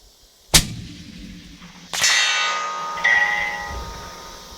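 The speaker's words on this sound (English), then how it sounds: "the crack of the round and the steel ringing was about the same time" A rifle shot cracks loud and sharp, followed about a second later by two bright metallic rings of a bullet striking a swinging steel target downrange, each ring decaying slowly with a faint rumble underneath.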